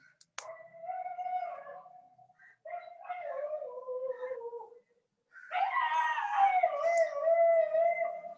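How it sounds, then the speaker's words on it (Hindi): A dog outside howls and yelps in pain, long wavering high cries that stop briefly and then return louder and more frantic, heard from a distance with no talk over them. "मुझे लगता है कोई कुत्ते को कोई बहुत बुरी तरह मार रहा है नीचे"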